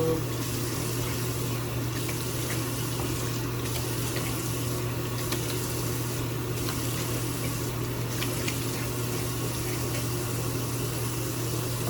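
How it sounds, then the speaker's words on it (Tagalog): Running water from a tap while a face is washed, a steady close rush of flowing water with faint splashes and a low hum beneath, continuous throughout. "Hugasan ang aking mukha."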